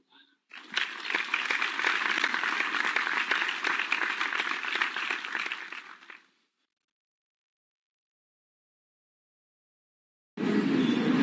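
Audience applause for a keynote speaker at a 2022 journal launch event, steady dense clapping for about five seconds, then silence before a voice begins speaking.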